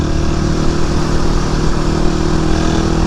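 Suzuki DR250 single-cylinder motorcycle engine running loud and close, a steady rough mid-pitched drone with no pauses or change in pace.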